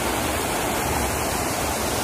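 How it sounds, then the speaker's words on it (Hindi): Water pours steadily over a small dam, making a loud, continuous broadband rush like a waterfall, close by and unbroken for the whole stretch, with no voices. "ये डैम है दोस्तों, जैसे पानी जा रहा है आप देख सकते हैं"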